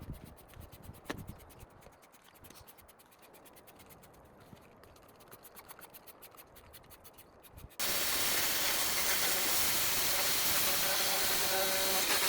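Steady spraying hisses inside the engine bay of an old budget pickup truck under restoration. The hiss is loud and constant and follows a stretch of scratchy, rustling handling noise.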